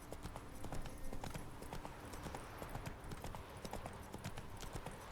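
Hoofbeats of Roach, Geralt's horse in The Witcher 3: Wild Hunt, galloping in a steady rapid clip-clop over a dense, continuous game soundscape, close and fairly loud throughout.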